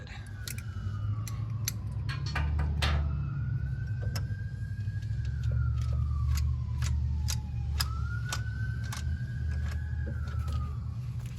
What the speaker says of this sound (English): Ambulance passing by, somebody's hurt.